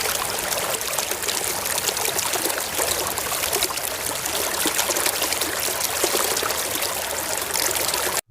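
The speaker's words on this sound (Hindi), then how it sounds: "इसे क्लीन करते हैं, धोते हैं पानी में।" A toy vehicle is washed in running water, with a steady close stream of splashing and trickling that continues unbroken, then stops abruptly.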